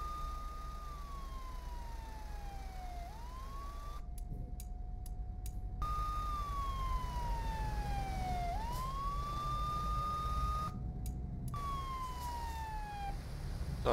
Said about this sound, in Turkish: Tamam, sirenimizi kapatalım arkadaş.